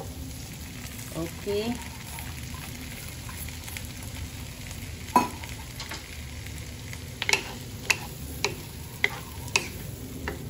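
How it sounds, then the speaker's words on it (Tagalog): Corn kernels tossed into a pan of sautéed garlic and onion for cream-style corn, a steady low frying hiss with scattered sharp clicks and taps from the utensil; a brief spoken word early on. "pagkahuman gisa sa ahos o bombay, ato nang ilunod ang corn."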